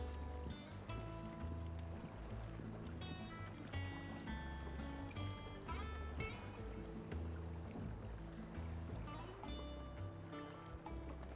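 Water surrounding a floating hideaway in Final Fantasy XVI, heard as a steady, loud wash of lapping water and boat-like motion beneath a dense layer of game music throughout.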